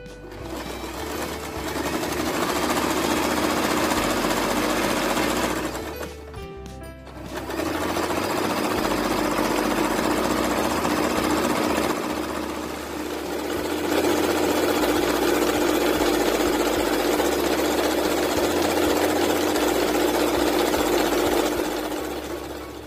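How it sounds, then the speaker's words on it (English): A sewing machine runs steadily, sewing a knit stitch on stretchy elastic fabric for a baby's turban bow headband. The motor hums loudly and continuously, with one brief pause partway through before it resumes. "I will use this knit stitch to sew this turban headband."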